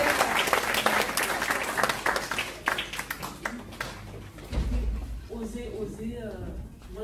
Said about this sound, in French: Je vous demande juste de l'applaudir.